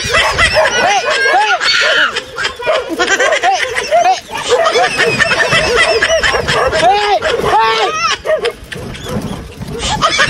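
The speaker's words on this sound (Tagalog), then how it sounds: "Bakit may aso dito?" Several dogs bark and yip repeatedly at close range, some whimpering, while someone speaks and exclaims over and around them, the barks coming in rapid overlapping bursts.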